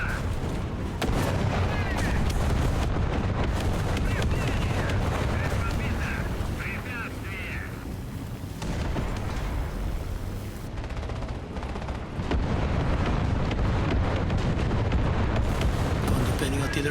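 Artillery and gunfire in War Thunder with the Su-122 self-propelled gun: repeated booming cannon blasts and rattling gunfire bursts across a long stretch of battle, loud and close, with someone talking at times.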